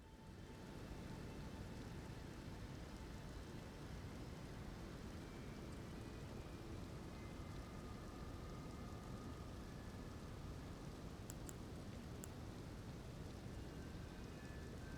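Rain and rolling thunder in the video game Elden Ring, a faint steady wash of rainfall with a low rumble running throughout, no talk.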